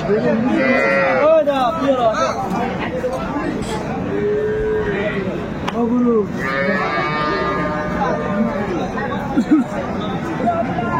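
At the Aftabganj cattle market, a cow with her calf lets out several moos under close conversation, with crowd chatter and market bustle filling the background.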